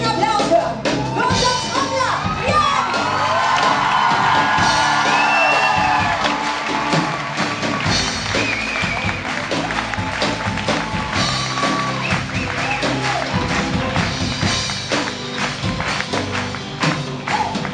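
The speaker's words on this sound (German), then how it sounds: "Deswegen möchte ich jetzt schon einmal einen riesen Applaus hören." Crowd at an unplugged concert cheering and whooping over loud, sustained music, with shouts and clapping mixed into a full, busy sound.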